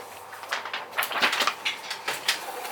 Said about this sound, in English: my printer's been loud because it's upset because it ran out of paper